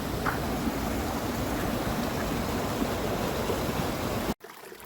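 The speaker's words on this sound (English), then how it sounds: "I thought this was a pretty little waterfall, and it is, but it's a culvert across the trail" A small waterfall stream pours steadily through a culvert beneath a hiking trail in Colorado's Indian Peaks Wilderness, a continuous close rushing wash that cuts off abruptly near the end.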